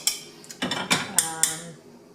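Metal clinks and clatter as the lid of a pressure cooker holding dal is handled and opened, a handful of sharp close knocks and scrapes over about two seconds, with no talking.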